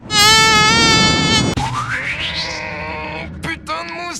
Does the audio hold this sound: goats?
no